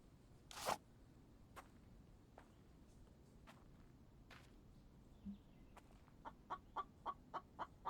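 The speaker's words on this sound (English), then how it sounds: "Did I just hear a chicken?" A chicken clucks in the survival video game The Infected, a faint run of short, evenly spaced clucks near the end, heard at a distance over a quiet background with a few scattered clicks and footsteps earlier.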